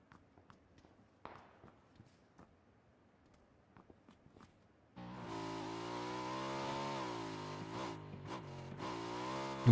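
Motorcycle engine droning steadily in an Apex Legends match, starting abruptly midway after quiet footsteps and faint game sounds, with harmonic engine tones shifting slightly in pitch as it rides along, loud and near.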